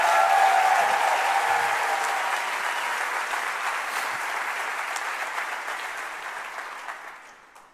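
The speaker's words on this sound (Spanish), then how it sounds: "si el aplauso es para Jesús" Steady church congregation applause fills the sanctuary, sustained dense clapping that gradually tapers off and dies away at the end, with no talk over it.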